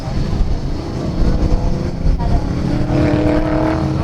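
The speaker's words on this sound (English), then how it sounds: "New car is making its way out, so that's the end of first drivers" An autocross race car at a Solo Nationals event rolls out onto the course, its engine droning and rising in pitch near the microphone while a commentator talks over it.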